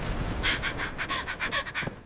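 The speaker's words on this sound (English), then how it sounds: "The secretary ran in, panting." A secretary who has just run into a boardroom pants hard, with about eight quick, rhythmic breaths close to the listener and no speech.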